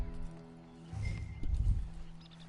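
A horse in the video game Red Dead Online moves with soft clip-clop hoofbeats and low snorting, rising to a louder burst in the middle, with background game ambience and no talk.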